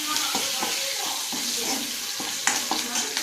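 Garlic and spices sizzling in hot oil while rasam is being prepared, a steady frying hiss with scraping stirs and a few sharp clinks, close and moderately loud.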